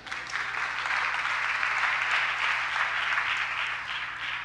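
Steady, dense applause from a church congregation fills the sanctuary, evenly sustained from start to finish with no voices rising above it.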